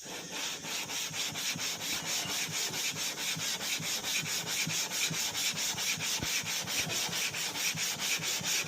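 Fine 1000-grit wet and dry sandpaper rubs over a Moto Guzzi police motorcycle cylinder head in steady, close back-and-forth strokes, a dense even rasping with a regular rhythm and no talk.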